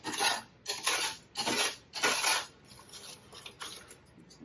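Crispy garnish for loaded baked potato soup crumbled by hand, producing several distinct crunchy, crackling bursts in a loose rhythm, close and fairly soft with quiet gaps between.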